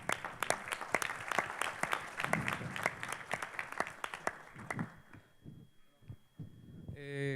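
An audience at an expert panel event applauds to welcome a participant, sharp individual claps from a modest group that thin out and fade after about five seconds, followed by brief quieter sounds.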